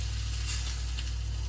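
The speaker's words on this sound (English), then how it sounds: "Sizzling chicken shashlik, lemon juice." Chicken tikka shashlik sizzles with lemon juice on a hot plate, a steady loud hiss that continues without pause and with no talking.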